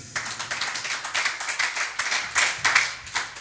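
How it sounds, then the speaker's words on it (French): A church congregation claps to acclaim the Lord during an evangelist's sermon, with many hands beating in a fast, steady, loud rhythm for a few seconds and no voices. "Est-ce qu'on peut acclamer le Seigneur?"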